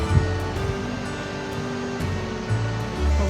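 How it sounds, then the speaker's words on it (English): Steady rushing river water flowing down to a loch fills the scene, a continuous broadband roar with occasional low gusty thumps, like wind buffeting a microphone. "Probably see the fast water coming down there."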